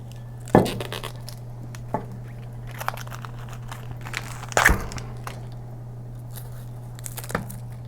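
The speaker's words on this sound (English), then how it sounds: "so you can start tearing it off" Hot shrink wrap is torn and peeled off a sublimated Polar Camel wine tumbler, giving a few sharp crinkling rips and scattered small crackles over a low steady hum.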